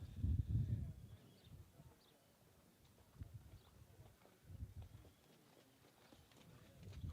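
Harness horses being driven at a trotting sale, including a 4-year-old bay gelding, give a faint, distant clip-clop of hooves in uneven bursts, with quiet background chatter from an auctioneer.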